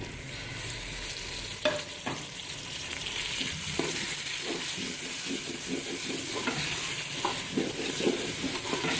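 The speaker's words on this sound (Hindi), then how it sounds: "लाइट ब्राउन करूँगी, भूनने लगी इसको।" Chicken keema fries in a pan for a Pakistani recipe, a steady bright hiss of sizzling fat with scattered scraping stirs from a spoon, close and continuous, with no voices.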